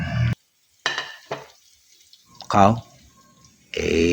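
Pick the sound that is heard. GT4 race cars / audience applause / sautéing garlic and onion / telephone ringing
sautéing garlic and onion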